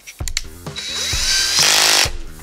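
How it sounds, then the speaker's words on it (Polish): A Parkside PBSA 20-Li A1 20 V cordless drill whirs in short spurts and then a longer rising spin as its chuck is loosened and tightened to swap a small bit for an 8 mm metal bit. It is close and loud. "Wykręcam malutkie wiertło i biorę naszą docelową ósemeczkę do metalu."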